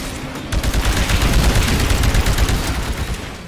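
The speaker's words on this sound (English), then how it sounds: "Using the anti-Titan weapon there." An anti-Titan weapon fires in Titanfall on Xbox One, a loud, dense burst of rapid explosive shots that rattles on continuously for about three seconds after a brief quiet start.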